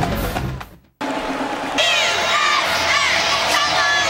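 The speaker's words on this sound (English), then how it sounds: "USF cheerleaders trying to cheer the Bulls on" A stadium crowd at a South Florida versus Western Kentucky college football game roars and cheers along with cheerleaders, loud and sustained after a brief dropout, with a commentator talking over it.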